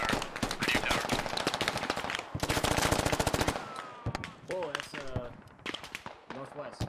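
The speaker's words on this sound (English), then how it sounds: "Where are those shots coming from?" Gunshots in the Squad video game on the Manicouagan map, rapid automatic bursts and scattered single shots cracking close and loud, with a person talking over parts of the firing.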